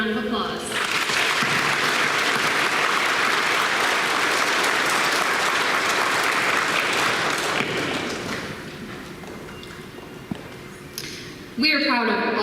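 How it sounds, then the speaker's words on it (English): An audience applauds at a school graduation ceremony with dense, sustained clapping for about eight seconds that then thins out and fades, and a voice starts speaking near the end. "Please join me in giving them all a round of applause."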